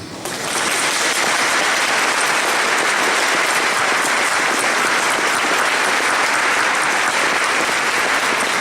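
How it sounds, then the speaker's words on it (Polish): Sustained audience applause at a church worship evening conference, steady dense clapping from a large crowd that starts abruptly and holds at an even level throughout, with no talking. "Zaklaszcie sobie."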